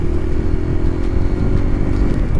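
Motorcycles, including a Bajaj Avenger and Royal Enfield Himalayans, ride together on a road between Bhutan and Sikkim, a steady close engine drone with slight clatter and no voices.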